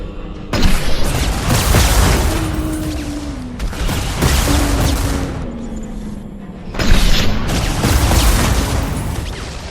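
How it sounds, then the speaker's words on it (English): Heavy, cannon-sized blasts fired by an enemy in Mass Effect 2 boom out in loud repeated bursts, each one a sustained roaring wash with a descending whine between shots, close and overwhelming. "it literally just sits there and fires these, like, cannon-sized blasts at you"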